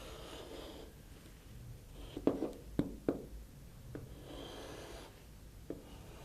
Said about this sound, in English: Now place the pointer at O and draw the circle.